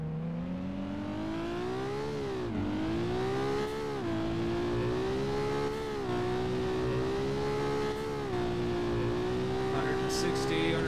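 A Supra-like sports car engine in the BeamNG.drive video game, droning steadily and loudly as it accelerates, with the pitch climbing and dipping at several gear changes across the run.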